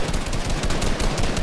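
Automatic gunfire in the Fortnite video game, a loud, continuous rapid stream of close shots with no pauses, heard alone.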